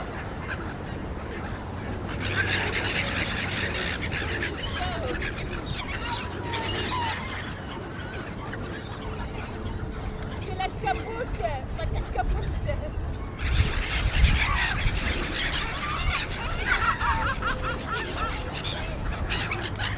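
Egyptian geese honk repeatedly by a park lake in Hyde Park, with other waterfowl calling around them, mixed with outdoor ambience and a voice talking.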